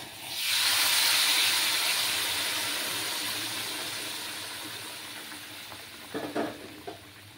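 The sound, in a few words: hot water poured onto cooking spice paste, steam hissing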